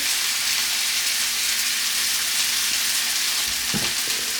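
Meat sizzles steadily in a hot pan, a dense continuous frying hiss with a brief clink of a utensil near the end.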